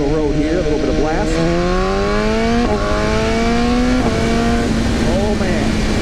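A 2015 BMW S1000R motorcycle accelerates hard on an open road, its engine note climbing steeply through gear after gear with brief dips at each shift, loud and close under steady wind roar.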